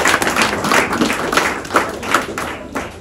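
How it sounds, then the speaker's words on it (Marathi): An audience applauds at a school event, a close burst of many hands clapping steadily for a few seconds with no talk over it. "पुन्हा एकदा टाळ्या वाजवूया त्यांच्यासाठी."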